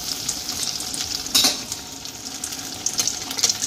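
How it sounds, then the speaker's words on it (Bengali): Battered paneer fries in hot oil in a kadai over high flame, giving a loud, close, continuous sizzle. Stirring adds scraping and bubbling surges, and no voices are heard. "এটাকে হাই ফ্লেমে একটু নেড়ে চেড়ে এইভাবে ভেজে নেব।"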